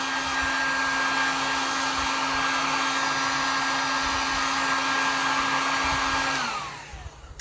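A hair dryer or heat tool blows steadily and loudly for about six seconds while drying fabric wrinkles out of a hanging fall pumpkin and sunflower decoration, then switches off and winds down, with no talking.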